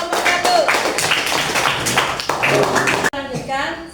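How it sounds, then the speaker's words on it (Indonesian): Primary school classroom applause for group number one at SDN Sukatani 6, with a short burst of dense clapping and tapping under a teacher's voice. It cuts off abruptly near the end. "Tepuk tangan buat nomor 1."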